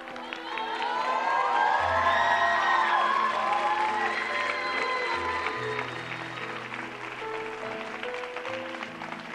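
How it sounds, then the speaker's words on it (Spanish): Professors and audience on a televised singing competition give a standing ovation, with sustained clapping, cheering and whoops filling the room beneath swelling music for the whole stretch. "tus profesores aplaudiendo de pie. El público también"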